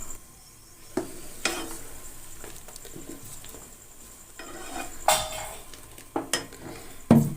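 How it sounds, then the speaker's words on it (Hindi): About 2 kg of milk heating toward a boil in a pot on a gas flame for pumpkin kheer: a low, steady bubbling hiss broken by a few sharp clinks of a utensil against the pot. "तो देखिए यहाँ पे अब जो है दूध को उबाल आने वाला है।"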